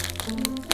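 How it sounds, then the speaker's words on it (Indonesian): Sukro, coated peanut snacks, tipped onto a bowl of baso aci: a quick patter of small crisp clicks and crackles, close and brief, over faint background sound. "Langsung aja kita tuang sukronya guys."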